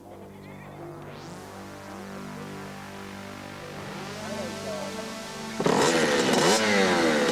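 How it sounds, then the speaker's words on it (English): An amateur dirt track motorcycle's engine runs steadily and fairly close, then revs harder near the end in a louder, rougher burst. "Casey Coyote Canoodle, who is an amateur dirt track motorcycle racer"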